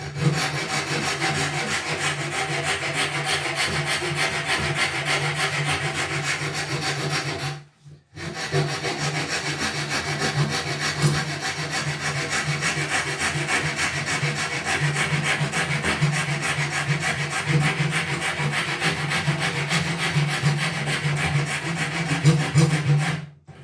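A file or rasp rubs rhythmically against wood while a guitar neck is shaped, producing continuous rasping strokes close up, broken by one brief pause, then continuing steadily to the end.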